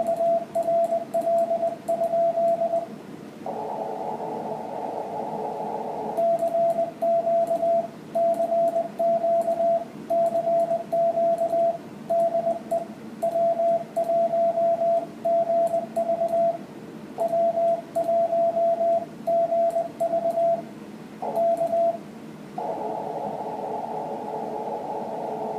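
An amateur radio operator sends a CQ call in Morse code, a clear steady tone keyed in rhythmic dots and dashes over faint static and hum, broken by a few longer bursts of noise.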